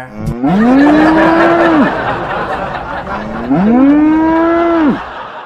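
Two long, loud cow moos, each a drawn-out bellow of about a second and a half, separated by a short pause.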